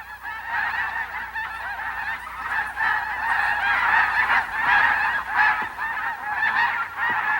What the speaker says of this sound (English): The snow geese usually fly in irregular, jagged lines.